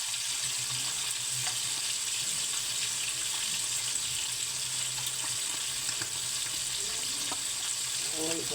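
Food frying in a pan with black pepper added, a steady bright sizzle running throughout, with occasional soft stirring scrapes toward the end, close by.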